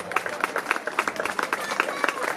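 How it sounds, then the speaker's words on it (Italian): Crowd clapping at a medieval-parade village fair ceremony in Solarolo Rainerio, a steady patter of many hands applauding with a faint voice underneath. "se volete facciamo un applauso"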